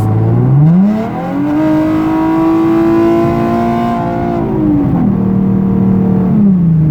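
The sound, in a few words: Nissan 370Z engine revving loudly under throttle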